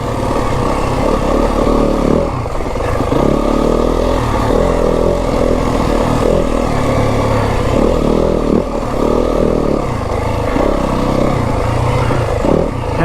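A 2026 Yamaha WR 250F dirt bike ridden along Kelly Canyon single track, its mid-pitched engine loud and close, rising and falling with repeated throttle blips and clattering over terrain, with no talk.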